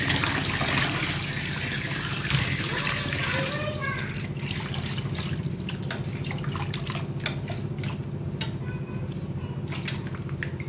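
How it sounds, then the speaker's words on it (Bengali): Bottle gourd is washed under running water, a steady gushing stream giving way to splashing and scattered drips and knocks as the vegetable is handled. "এই তো লাউ ধুয়ে নিলাম"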